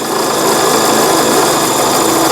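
A Brother Prince 15 sewing machine runs at high speed while winding thread, a loud, steady, close mechanical whir that holds constant without a pause.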